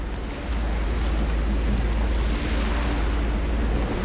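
Ocean waves at sea aboard a ship in Guild Wars 2, a steady rushing wash of water with low wind rumble, continuous and fairly loud with no voices.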